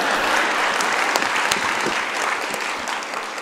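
Steady applause from the audience at a Tamil pattimandram debate hall, dense and sustained across the whole stretch, loud and even with scattered sharper claps poking through.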